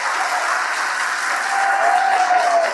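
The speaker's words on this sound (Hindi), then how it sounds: "कमजोर रही ताली," Dense, continuous crowd clapping at a political rally speech, loud and steady from start to finish, with a faint tonal whistle or feedback line rising briefly near the end and no speech.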